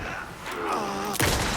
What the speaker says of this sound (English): Let's try the rifle.